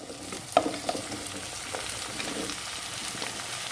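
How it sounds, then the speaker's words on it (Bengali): Seven mixed vegetables for a temple-style offering are tipped into a hot pan, sizzling loudly at first with a clatter of stirring, then settling into a steady close frying hiss. "এবার এর ভেতরে সব সবজি ছেড়ে দিচ্ছি, একসাথেই ছেড়ে দিচ্ছি"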